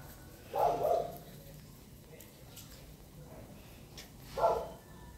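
A pet dog at a home gives two separate barks a few seconds apart, moderately close, over low background noise.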